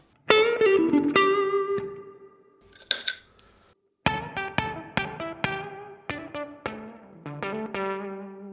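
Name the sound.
electric guitar through octave fuzz pedal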